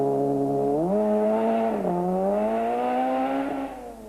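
A Mitsubishi Conquest rally car at the Sasol Rally 1993 slides along a gravel stage, its engine note loud and close, rising and falling in pitch with revs before easing off at the end.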